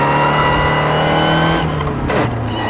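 Vintage Aston Martin International race car engine revving loudly and close, a steady high-pitched roar that holds then drops as the revs fall, with no voices.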